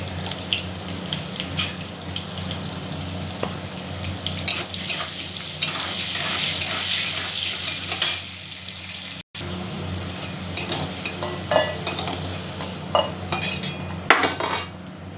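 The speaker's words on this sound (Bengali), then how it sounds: "প্রথমে আলুটা ভেজে নিচ্ছি।" Potatoes frying in a pan with salt and turmeric, a continuous sizzle beneath repeated metallic clatter of a spoon against the pan and occasional running water, no talking.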